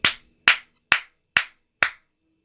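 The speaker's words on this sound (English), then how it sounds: "I'm going to clap my hands." A single person claps their hands five times at an even, unhurried pace at the close of a guided meditation, each crisp, close clap separated by silence.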